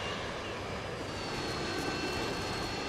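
A Harrier jet roars overhead during a Call of Duty: Modern Warfare II match, a steady, dense engine rush that holds evenly throughout without breaks.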